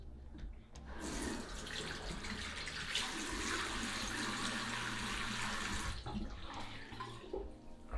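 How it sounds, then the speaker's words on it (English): A tap runs into a bathroom sink while someone splashes water on their face, a steady close gush that starts after a second and cuts off near the end. "First thing, I wet my face."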